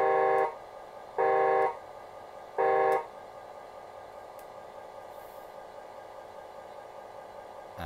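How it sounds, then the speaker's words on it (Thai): A toy-like horn on a model landfill compactor honks three times in short, evenly spaced blasts, each about half a second long, followed by quiet with faint clicks. "เปิดแตรดันขึ้น"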